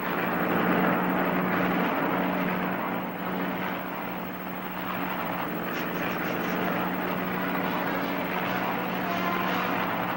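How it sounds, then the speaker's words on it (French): Continuous droning engine hum of an airplane in flight in an animated Tintin cartoon, steady and loud with a low tonal whine, no voices. "Je suis persuadé que Tintin est dans cet avion."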